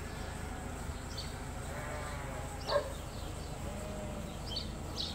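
Sheep bleat faintly from inside a barn, one short call standing out briefly over a steady low background hum, with a few other soft, distant bleats scattered through.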